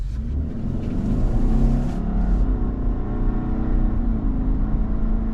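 A 2025 Subaru Outback Wilderness turbo pulls away from a stop, its engine a steady, close droning rumble heard from the cabin with no speech.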